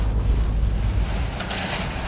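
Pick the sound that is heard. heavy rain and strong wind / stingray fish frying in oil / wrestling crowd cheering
heavy rain and strong wind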